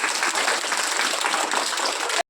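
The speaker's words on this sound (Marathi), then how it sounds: "सगळ्यांनी आपल्यासाठी टाळ्या वाजवायच्या" A crowd claps in dense, continuous applause at steady loudness at a Makar Sankranti celebration, which stops abruptly at the end.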